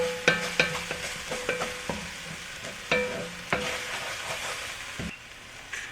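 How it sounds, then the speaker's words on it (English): A spoon stirring and scraping white bean and kale soup with ham in a pot, sharp knocks against the pot's sides at an uneven pace over a soft simmering sizzle. "Giving it a good stir, scraping up all the bits."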